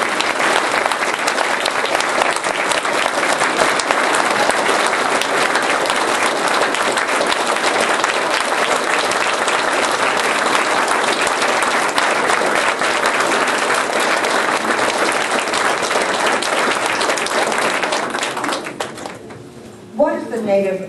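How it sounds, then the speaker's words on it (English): Sustained, loud audience applause fills a speaking event in Rapid City, steady for about eighteen seconds before tapering off near the end. "well, if you guys clap once"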